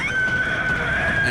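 A shrill, sustained creature cry from the first boss in the Bloodborne video game rings out loud and close, a steady piercing wail that holds for over a second with rough, noisy texture beneath it.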